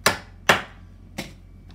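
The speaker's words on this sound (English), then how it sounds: "hammer your ball bearings back in place" Ball bearings are hammered back into a Stokke Xplory stroller front wheel with three sharp, close taps, the last one softer, and no voices.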